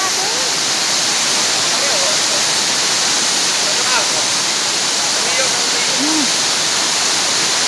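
Merloquet Falls, a waterfall in Zamboanga City, roars in a steady, loud, full-band rush of falling water that is heard up close and continues without a break, while faint bird calls come through behind it.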